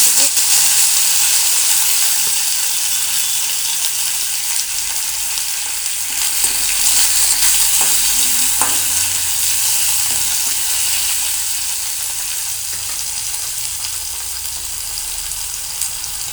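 Chopped tomato hits hot oil already tempered with cumin in a pan for a broccoli dish, producing a loud, steady sizzle and crackle that continues throughout and fades slightly toward the end, with no talking.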